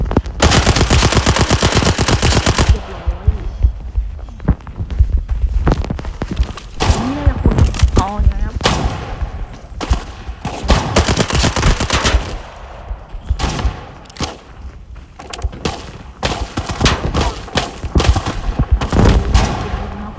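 Bursts of automatic rifle fire and single shots from the Arena Breakout shooter game crackle in rapid, dense volleys, some near and some distant, while a player talks over the shooting.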